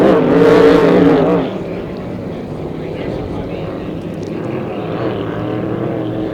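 Loud engine roar of vintage racing boats passing close during a race at Moses Lake, then a steady droning motor noise continuing in the background with some crowd or voice murmur.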